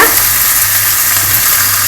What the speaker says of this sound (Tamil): நம்ம பொடியாக நறுக்கி வச்ச பூண்டையும் மிளகாவையும் அதில் போட்டு வதக்கிடுவோம்